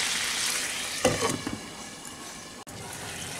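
Potato gravy bubbling in a covered pot over a medium flame gives a steady, soft hiss, with a short burst of stirring or bubbling clatter near the start and a brief dropout near the end.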